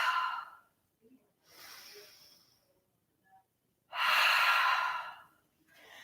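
Slow, deep breaths during a yoga relaxation, heard as a few long, airy inhales and exhales separated by quiet pauses, close and alone with no talk.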